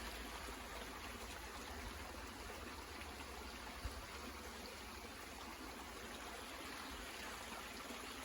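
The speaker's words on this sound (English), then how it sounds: "This stream, right where you see it go out of sight, drops." A mountain stream flowing beside a hiking trail, heard as a steady, dense wash of rushing water at an even level throughout, with no voices.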